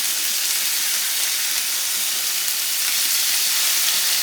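Steakburger patties sizzling in a hot greasy pan just after flipping, a steady, even, hissing crackle with faint pops, continuous and close throughout.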